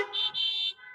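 Car horns honk at an outdoor drive-in high school graduation ceremony, two close, loud, sustained toots in quick succession with a short gap between them, then a fainter tone trailing off.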